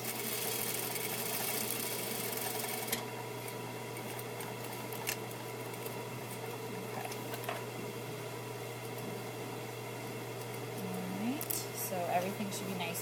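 A sewing machine runs a quarter-inch stay stitch to hold a fabric piece flat, giving a low, continuous motor hum with occasional clicks while a voice talks over it.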